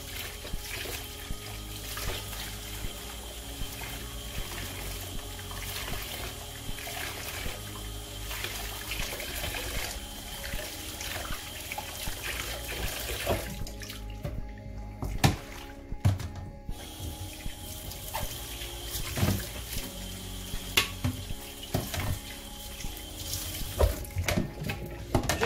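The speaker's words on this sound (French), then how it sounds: "Bien regarder là où je mets de l'eau et tout." Water runs steadily from a kitchen tap into a sink while household appliances are cleaned with degreaser and soap, a continuous moderate trickle and splash with occasional clinks of objects, briefly interrupted midway, and no talking.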